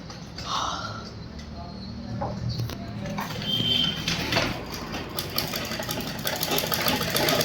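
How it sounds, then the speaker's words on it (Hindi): A sewing machine stitches a lined blouse, its steady mechanical whirring hum running throughout and growing slightly louder, with brief talk near the start. "एक बराबर लेने के बाद में सिलाई यहाँ पर आपको लॉक कर देनी है"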